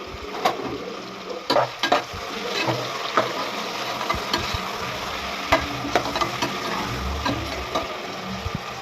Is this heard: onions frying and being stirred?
yes